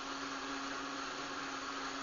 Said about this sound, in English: And this is what it sounds like with a blender roaring in the background.